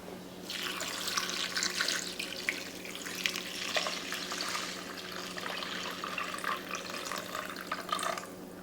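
Tap water runs steadily into a cooking pot while rice with saffron, bell pepper and olive oil is being cooked for beef tri tip shish kebabs, a continuous close hiss and splash that holds for most of the clip with no talking.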